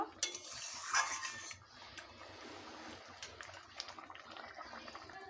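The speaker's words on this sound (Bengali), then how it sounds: "দিয়ে দেব মাছ এবারে নেড়ে চেড়ে কিছুক্ষণের জন্য ঢেকে দেব" Rohu fish being stirred into a poppy-seed curry in a pot, with soft clinks and wet sloshing of thick gravy, a brief louder scrape early on, then quieter intermittent stirring.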